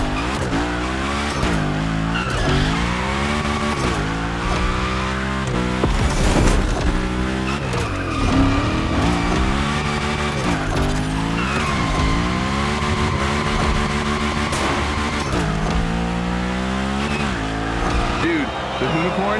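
Hoonigan car drifting in The Crew Motorfest gymkhana, a revving engine with long repeated tire squeals rising and falling through tight slides, loud and close throughout.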